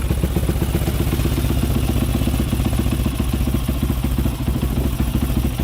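A Honda 400EX quad runs at a fast, rough idle after a first start, a loud close-up engine chatter with steady rapid firing pulses and mechanical clatter, no voices.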